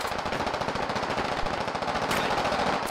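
Sustained automatic gunfire in the Squad Ops video game during a river-crossing operation, a loud dense rattle of rapid shots running continuously with no pauses and no voices.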